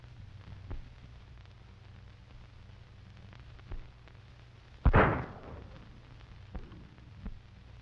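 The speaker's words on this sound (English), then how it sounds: "That was pretty good shooting." A single sharp gunshot blast from a western film, loud and sudden with a short decaying tail, set against a steady low hum and a few faint knocks.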